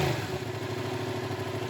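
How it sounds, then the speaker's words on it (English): A standard 2015 Yamaha MT-07 motorcycle with over 70,000 miles runs close by with a steady, rumbling engine note, the throbbing pulses holding even through a short blip and no voices over it. "Now, for those interested in what a standard MT-07 sounds like,"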